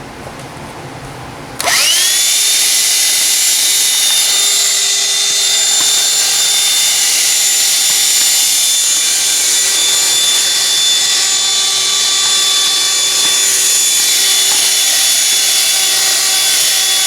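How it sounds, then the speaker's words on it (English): A handheld dust buster vacuum whirs to life after a short quiet moment, jumping to a loud, steady high-pitched motor whine that runs unbroken for the rest of the clip while cleaning up dust. "let me get the dust buster and a rag, and I can clean this up real quickly"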